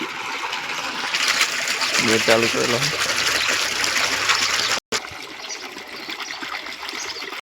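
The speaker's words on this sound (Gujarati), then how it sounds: "એટલે હવે પાણી ભરાઈ રહ્યું છે ટાંકામાં." Water gushes steadily into a tank in a continuous loud rush, with a person speaking briefly over it and a momentary dropout partway through.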